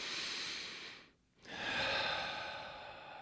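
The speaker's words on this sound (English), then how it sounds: "Can we just take a deep breath?" A slow, deep human breath: a long airy inhale, a brief pause, then a full audible exhale, close and alone with no talking.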